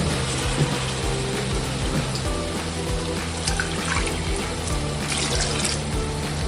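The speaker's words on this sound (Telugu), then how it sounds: "కొంచెం అంత వాటర్ని మనం యాడ్ చేసుకుంటాం" Water poured into a pan of cooking chicken pulao, a continuous close splashing flow with faint metallic clinks, steady throughout and with no talk.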